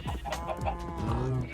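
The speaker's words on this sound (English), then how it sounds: "Chickens, sheep." Chickens clucking in a Minecraft-style survival multiplayer game, a short run of close, clear clucks and squawks with no talk over them.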